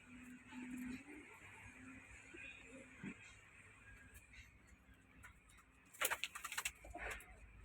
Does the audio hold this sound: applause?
no